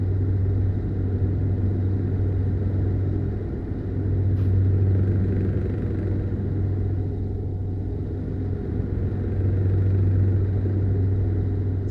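A steady, deep V8 truck engine rumble in a video game idles continuously in the background, low and even throughout with no talk over it.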